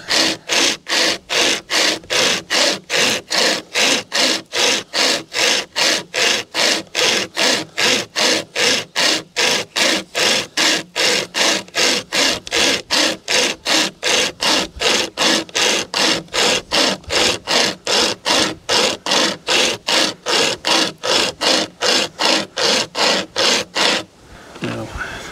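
A Drifta Stockton pocket chainsaw, a hand-pulled chain, cuts through wood in steady back-and-forth rasping strokes, about two per second, loud and close, continuing for over twenty seconds before stopping abruptly.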